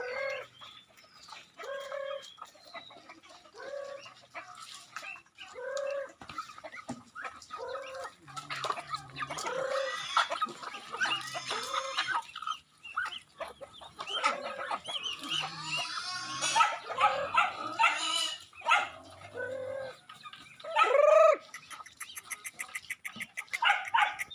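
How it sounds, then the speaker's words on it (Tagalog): Chickens clucking and squawking with occasional duck calls from a small farm flock of ducks and chickens nearby, steady and busy throughout, with a faint crow near the end. "mga alaga naming mga pato at manok"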